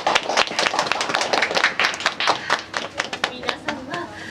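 A tour group claps at Cinderella Castle in Tokyo Disneyland, the sharp hand claps scattered and uneven under a speaking voice that continues through the burst.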